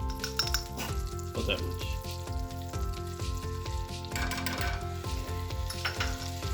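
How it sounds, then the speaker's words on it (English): Minced garlic sizzles and fries steadily in hot oil with melting butter in a pan, a loud continuous crackle with occasional utensil clinks; a voice speaks briefly over it. "Oil's nice and hot. The butter melting. We put some garlic."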